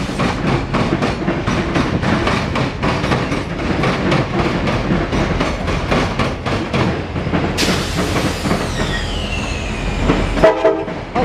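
A CSX westbound local freight train rolls backwards through Marion, Ohio, with a loud continuous rumble and rhythmic wheel clatter close by, and a horn sounds late in the pass.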